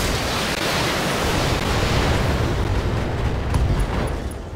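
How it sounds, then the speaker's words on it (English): An ammunition explosion tears through a mech in the Battletech video game, a loud sustained roaring blast of broadband rumble that fades slightly at the end, with no voices over it. "Ammo explosion right side gone."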